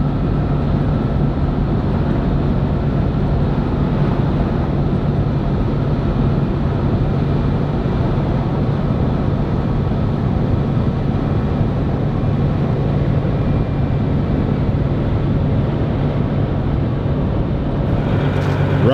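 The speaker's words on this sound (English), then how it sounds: "Riding in the big rig this morning." Steady low road rumble and engine drone inside the cab of a big rig truck on the highway in Arizona, continuous and fairly loud throughout with no talk.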